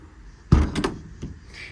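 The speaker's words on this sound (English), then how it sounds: "Now all these doors close, latch, lock, and seal as they should." A service bed compartment door on a 2017 Hino 338 truck with a 14-foot Adkins bed swings shut with a close, solid metallic thunk, followed by a lighter latch click a moment later.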